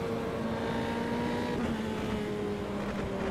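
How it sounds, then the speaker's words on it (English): A Formula 3 car running low and scraping the ground at Suzuka in a racing simulator, heard as a steady engine drone with layered tonal harmonics and a faint gritty scrape underneath, moderately quiet and without voices. "The car is running lower. It's scraping the ground. You can hear that in the sound effects."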